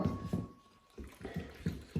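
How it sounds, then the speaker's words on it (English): Flour is worked into water by hand for bread dough, making soft, wet squelching and sloshing strokes in a steady rhythm of about five pushes, close by and quiet. "So I tend to try and mix as much into the water as I can, just very slowly with my fingers"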